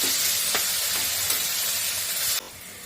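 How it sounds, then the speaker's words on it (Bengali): Taro greens sizzle loudly in a hot pan with continuous frying hiss while a utensil scrapes and stirs them, then the sizzle drops quieter. "এই যে একটু নেড়ে চেড়ে নিচ্ছি"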